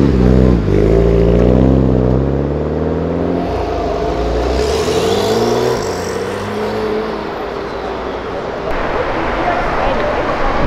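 A Mitsubishi Lancer Evolution engine revs up and down with rising and falling harmonics at a street car meet, close and loud, with people talking over it and traffic noise behind.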